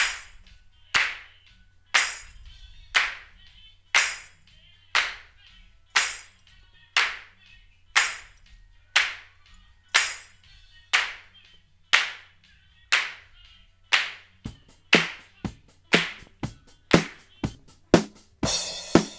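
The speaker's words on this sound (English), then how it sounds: "expose these claps from hell that are on all of the Rick James songs" Isolated hand claps from a Rick James song, sharp and dry, repeating in a steady rhythm about every 0.8 seconds, with a faint low hum underneath and a denser flurry of quicker claps near the end.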